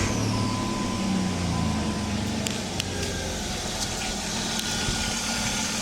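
A 2002–2005 Jeep Cherokee KJ (Jeep Liberty) petrol engine idles steadily just after being started, with a continuous low hum and a few faint metallic ticks over the drone, heard close and without speech.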